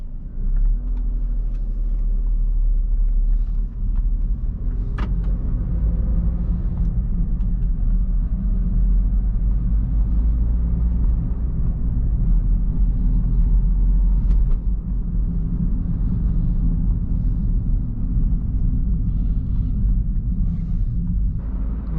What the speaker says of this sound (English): This car has a 1-liter 3-cylinder engine, which is really small and in the back of the car